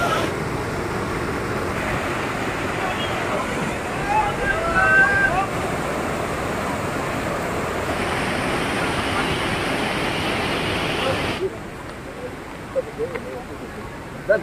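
Jogini waterfall near Manali in Himachal Pradesh roars as a steady, loud, close rush of water, dropping somewhat in level near the end.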